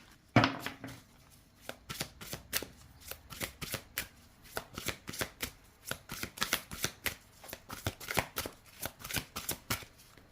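Tarot cards are shuffled in a long run of crisp riffling and slapping bursts, close and fairly quiet, repeating irregularly with no talking.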